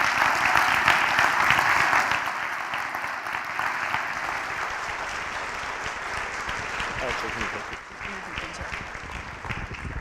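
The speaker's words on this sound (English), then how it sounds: "Clap loudly." Audience applause fills a hall at an energy-themed storytelling slam, a dense, steady wash of clapping that starts loudest and eases slightly while continuing throughout.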